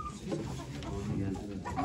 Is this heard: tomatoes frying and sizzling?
no